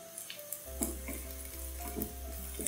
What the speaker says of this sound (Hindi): अब इसमें हम डालेंगे हरी मिर्चें और हरी मिर्चों को भी हम रोस्ट कर लेंगे